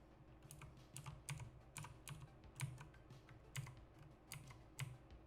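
Keys clatter on a computer keyboard in irregular bursts of quick clicks with short pauses between them, quiet and close, with no voices.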